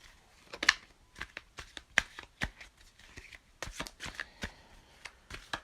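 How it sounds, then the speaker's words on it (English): A tarot deck of the Power of Love oracle cards is shuffled by hand, giving a close, quiet run of crisp riffling bursts and taps in uneven rhythm, with no one speaking. "I'm going to pull one card, and then I'll pull an activation card from my Power of Love deck by James Van Pra."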